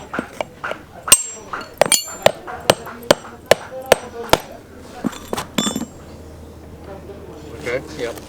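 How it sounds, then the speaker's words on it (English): A farrier's hammer clenches horseshoe nails while a horse is shod in Ethiopia: about a dozen sharp, evenly spaced metallic strikes ring out close by, then give way to quieter shuffling and background noise. "Hammer clenching."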